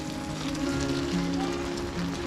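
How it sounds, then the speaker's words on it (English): Steady rain patters across surfaces in a constant wash at a winter forest campsite, with a low droning hum underneath; fairly quiet and continuous throughout. "as predicted, the rain is here and it's very wet."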